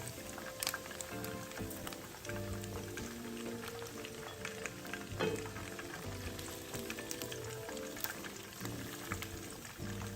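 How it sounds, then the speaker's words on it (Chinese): Pork belly pieces deep-fry in a wok of oil, a busy crackling bubble with scattered pops and clatters running throughout at moderate level, no talking over it. "肉块油炸至视频中这状态"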